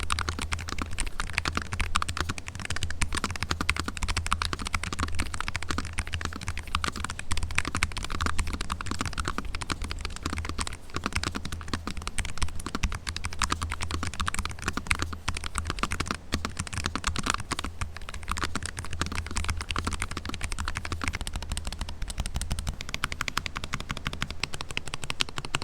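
Rapid, steady typing on a Nuphy Air60 HE low-profile magnetic keyboard with CB foam and silicone padding in the bottom case, dense clacky keystrokes running continuously for the whole stretch with no talking.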